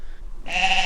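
A single sheep bleats once, close and clear, after a brief moment of quiet.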